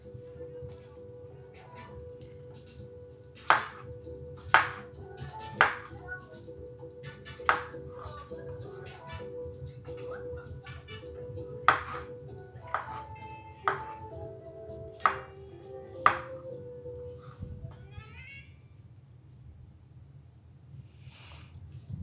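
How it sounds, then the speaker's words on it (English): A knife cuts whole mushrooms into julienne strips, giving a series of sharp, separate chops against a cutting board, about eight distinct strikes at an uneven pace, close and fairly clear over a steady low background hum, with no talking. "So I'm just cutting these also in a julienne strip."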